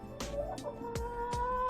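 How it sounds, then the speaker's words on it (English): Laying hens in a chicken coop make a few sharp, short bursts, four quick calls over a steady low background hum, fairly close but not loud. "Currently, we're keeping 28 laying hens."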